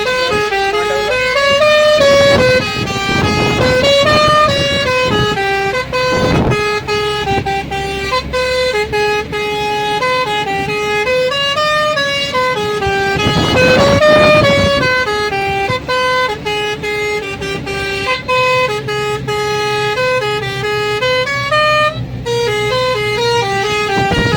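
A vehicle's horn blares almost without pause, loud and close, while the vehicle drives off toward a village fair (jatra) in rural Maharashtra; the tone rises and falls over steady road noise.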